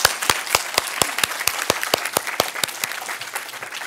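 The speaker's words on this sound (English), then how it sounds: "a big round of applause for our brilliant presenters" An audience applauding presenters at a housing and homelessness conference session, a burst of sharp, evenly spaced claps that thins into lighter scattered clapping over a few seconds.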